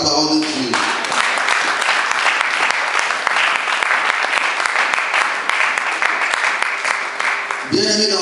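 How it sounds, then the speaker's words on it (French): A church congregation at a French-language sermon bursts into loud, sustained applause for several seconds, with brief speech at the start and end. "Est-ce qu'on peut acclamer pour la parole de Dieu?"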